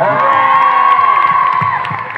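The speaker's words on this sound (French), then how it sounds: "vous pouvez merci. applaudir les auteurs" A French premiere audience cheers and whoops for the film's writers, a dense, loud crowd roar with shouts rising above it, steady throughout.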